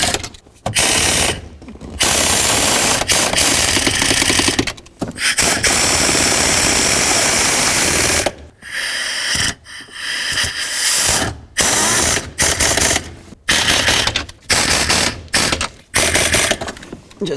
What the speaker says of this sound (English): I turn my air gun all the way down so it doesn't have a lot of force